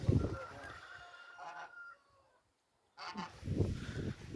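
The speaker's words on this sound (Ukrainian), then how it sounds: "Гусенька біжить, та що на яйцях сиділа." Loud goose honks in two bursts, a cluster at the start and another after a brief silence, close by with harsh nasal calls.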